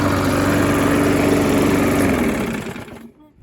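A restored, previously seized Briggs & Stratton small engine runs at a steady, loud mechanical drone, then cuts off and winds down to silence near the end.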